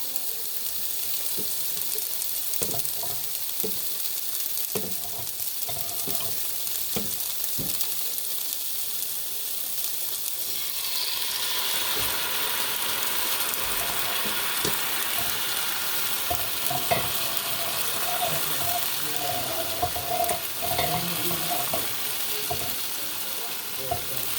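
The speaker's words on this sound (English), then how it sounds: "Give it a quick stir." Vietnamese pancake batter is stirred in a hot pan, a steady sizzle with scraping and brief clicks that grows brighter and louder partway through.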